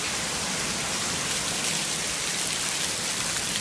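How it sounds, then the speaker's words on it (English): Heavy rain pours during a Southern California rainstorm, a dense, steady roar of drops hitting surfaces that stays loud and unbroken throughout, with no voices. "Why is it raining so hard?"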